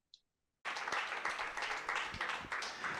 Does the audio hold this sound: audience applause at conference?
yes